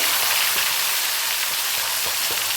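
Katla fish head pieces coated in salt and turmeric fry in hot oil in a pan, giving a loud, dense, continuous sizzle with scattered crackles and pops, close up and with no voices.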